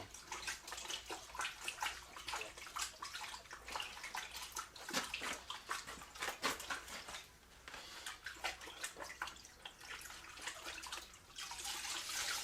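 Parts from a Stihl MS500i chainsaw sloshed and swirled in a bath of solvent, giving a steady run of splashing, dripping liquid sounds close by with no talking.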